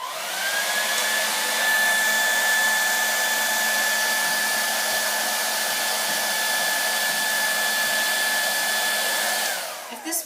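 A hair dryer blows steadily to keep a ball floating in its airstream, a loud continuous whine with a constant pitch that runs unbroken and alone until it cuts off at the very end.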